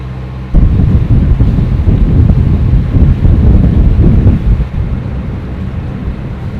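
Strong wind gusts batter the microphone aboard a sailboat in Arctic Norway, a sudden loud roaring rush that starts abruptly, holds for several seconds, then drops to a lower steady blow.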